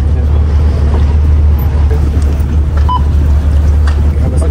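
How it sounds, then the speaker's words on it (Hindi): A boat ride on the water at Al Seef in Dubai, with a steady low engine drone and wash of water and wind filling the whole stretch, close and loud. "Now we are taking the boat."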